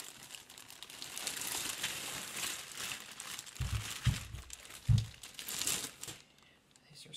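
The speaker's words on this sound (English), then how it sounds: "So go ahead and pull out the body of the microscope. And you're going to take it out of its plastic." A microscope body being pulled out of its plastic packaging, giving close crinkling and rustling of plastic throughout, with a few soft thumps as the unit is handled.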